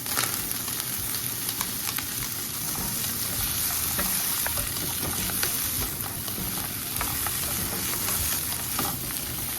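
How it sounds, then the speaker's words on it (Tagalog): Mixed vegetables frying in melted butter in a pan give a steady, close sizzle and crackle that stays even throughout, with no voices. "pag matutunaw na yung ating butter, pwede natin ilagay yung gulay."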